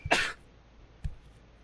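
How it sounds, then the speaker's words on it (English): A single sharp burst like a sneeze or harsh cough bursts out close by, followed by a faint short second sound. "Don't you dare sneeze on me."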